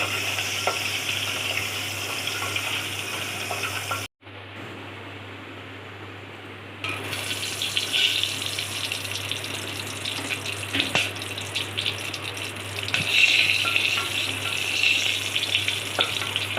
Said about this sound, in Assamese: কণী 4টা ফ্ৰাই কৰোঁতে মই অকণমান হালধি গুড়ি দি ল'ম।